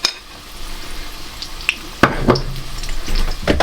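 Fish sizzles steadily in hot oil in a wok, with a few sharp spits and crackles as it settles, close and moderately loud.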